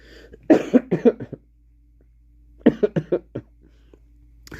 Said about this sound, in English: The master has a fucking cough.